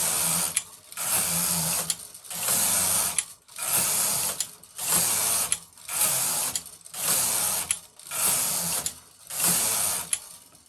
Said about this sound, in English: I can continue knitting.